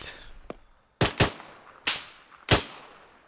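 Gunfire in the military video game Arma 3: one faint shot, then a pair of sharp cracks followed by two more single reports at irregular intervals, each ringing briefly as it decays, with no talking.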